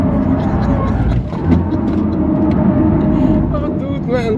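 A rear-wheel-drive Cupra Born electric car drives on the Nürburgring, its steady road and wind roar filling the cabin while occupants talk over it.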